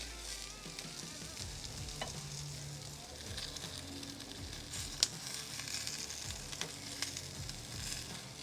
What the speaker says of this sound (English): sear off the other side, and we'll be ready to start building these sliders.